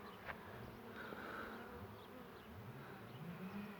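Honeybees buzz in a dense, steady hum, a swarm droning nearby at the hive with individual insects whining past, quiet overall and with no talking.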